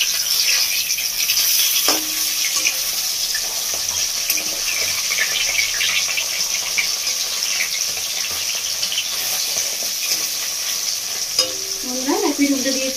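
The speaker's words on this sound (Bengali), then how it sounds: "মাছটা 1 মিনিট মতো ভাজা হয়ে গেছে। এবার উল্টে দেবো।" Bhola fish fillets sizzle and crackle steadily in hot oil in a pan, a dense close frying hiss throughout with occasional spatters and a brief squeak of utensil near the end.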